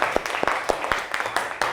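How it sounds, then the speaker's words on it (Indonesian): A small class of schoolchildren claps in a classroom lesson, giving a short burst of scattered, uneven handclaps with a few louder individual claps standing out over about two seconds. "Ya, tepuk tangan buat kita semua."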